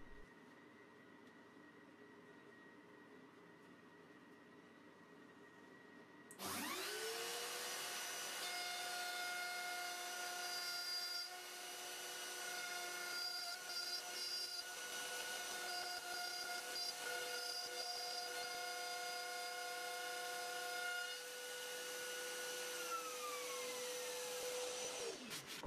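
A router in a dado jig base cuts dados into a wooden shelf workpiece, starting abruptly with a loud sustained whine and rough cutting noise that runs steadily before the motor spins down at the end.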